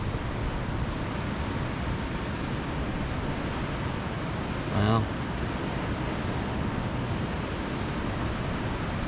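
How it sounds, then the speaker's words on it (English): Steady broadband rush of waves breaking on a Gulf Coast public beach, mixed with wind buffeting the microphone, continuous and fairly loud throughout, with one short spoken exclamation near the middle. "look at those waves out there"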